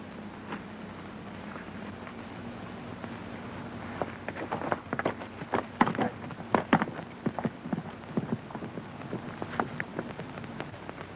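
Hooves clip-clop faintly on the trail as riders move off on horseback, with an irregular patter of hoofbeats starting after a few seconds of quiet and continuing to the end.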